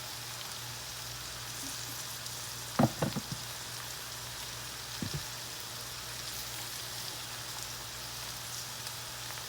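Cornmeal-coated food frying in a pan, a steady soft crackling sizzle throughout with a couple of brief louder clatters near the start.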